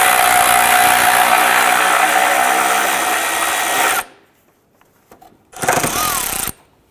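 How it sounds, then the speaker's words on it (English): A power tool whirs loudly and steadily for about four seconds while removing a 10mm bolt on the strut tower of a 2001-2005 Honda Civic, then stops, followed by quiet clinks and a second short burst of the tool. "on the strut tower here, I'm going to remove this 10mm bolt"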